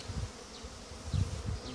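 Honey bees buzz inside a queen cage, a low steady hum with irregular swells as they move about, close and fairly loud, with no voices.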